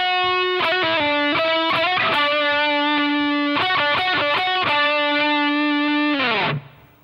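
Overdriven electric guitar lead line with slides, hammer-ons and pull-offs in quick bursts, settling on a long ringing note that drops away at the end; loud, close and unaccompanied, no voices.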